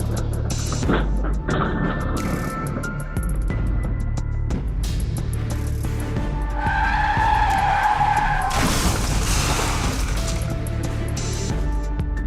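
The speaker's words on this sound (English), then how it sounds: "Losing control of a newly rented Ferrari, the driver veered into the opposite lane and caused a serious crash." A rented Ferrari skids out of control and crashes, with loud tire screeching and engine noise, a harsh burst of impact-like noise partway through, and constant dense road roar.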